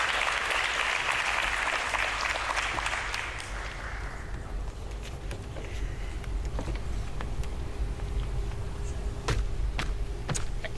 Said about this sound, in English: Kindly give him a round of applause as he comes on stage.